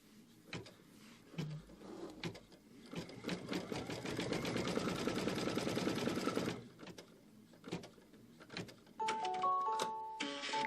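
A Kimberbell embroidery machine stitches out a tree trunk with a fast, steady mechanical whirring and clatter for several seconds. A few clicks come before it, and beeping tones follow as the stitching stops.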